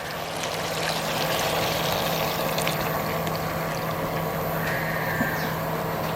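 Coconut milk pours into a pot of country chicken curry, a steady close trickling and splashing that runs throughout with no talk.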